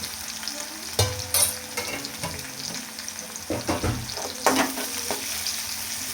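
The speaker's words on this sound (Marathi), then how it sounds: "आता मिरची लसूण छान परतते." Green chilies and garlic sauté in hot oil in a pan for a fenugreek vegetable dish, a close, steady sizzle broken by scraping stirs and occasional spatula knocks.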